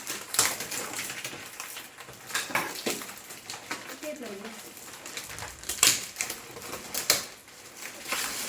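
Tight gift packaging is pried and torn open with sharp crinkles, taps and clattering snaps that come in bursts, while people talk over it.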